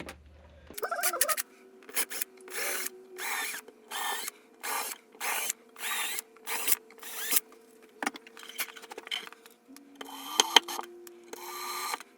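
A power drill driving screws whirs in a run of repeated short bursts, each a second or so long, with brief pauses between them, close by and fairly loud.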